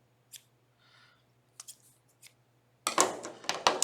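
Children's scissors used for kindergarten cutting practice give several crisp snips close by, then a louder run of rapid cutting and rustling at the end.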